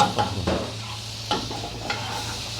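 Sliced onion frying in hot oil in a pan, a close steady sizzle broken by several scraping stirs of a spoon.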